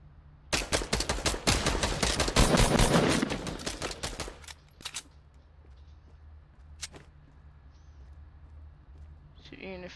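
Rapid, loud bursts of automatic gunfire in Fortnite: Battle Royale, a dense volley for several seconds followed by a few isolated shots, with a player's voice speaking.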